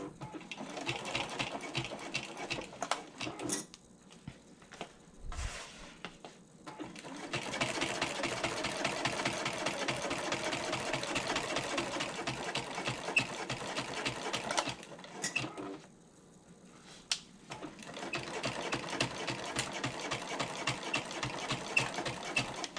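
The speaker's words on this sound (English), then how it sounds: "we are going to go ahead and stitch down the side, the bottom, and the other side at a 1/2 inch seam allowance" Sewing machine running long stitching passes down the side and bottom seams of a convertible bag, a close, steady rapid whir with brief pauses between runs.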